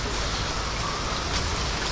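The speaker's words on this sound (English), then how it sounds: "Fishing in the rain." Steady monsoon rain falls in Thailand, a dense, even hiss of drops on surfaces that runs unbroken for the full two seconds, close and fairly loud, with no voices.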